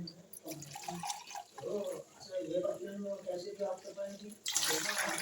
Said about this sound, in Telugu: బియ్యాన్ని కొలిచి ఇలా శుభ్రంగా కడుక్కొని పక్కన ఉంచుకోవాలి.